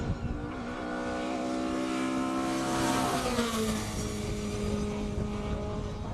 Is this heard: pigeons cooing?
no